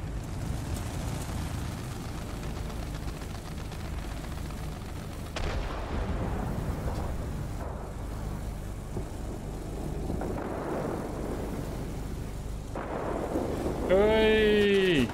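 Anti-aircraft gunfire in the World of Warplanes air combat game: a dense, continuous rumble of flak bursts and engine drone that swells near the end, where a rising whine cuts in.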